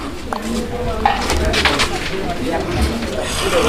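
Pigeons coo repeatedly at a pigeon sale, where a pair of Kormona pigeons is among the birds on offer. Someone talks steadily over the soft, rhythmic calls.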